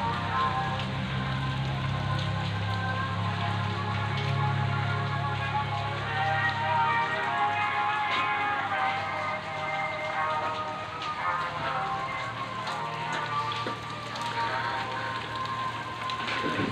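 Steady rain falls on a rainy Saturday morning, a dense constant patter on surfaces close by with a low background rumble throughout.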